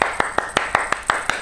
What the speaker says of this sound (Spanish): Ahora sí voy a aplaudir